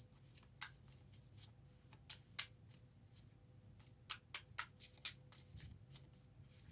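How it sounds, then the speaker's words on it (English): Tarot cards are shuffled by hand in quick bursts of crisp riffling and soft flicks, with short pauses between, close and fairly quiet. "It's so different shuffling these cards."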